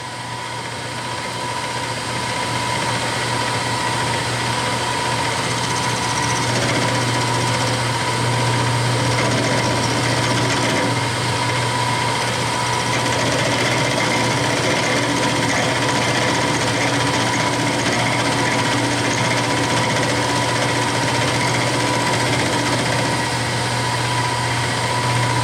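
A metal lathe with a round insert cutter squares the end of the stock, giving a steady, continuous motor hum with a constant whine, unchanging and close throughout with no talking.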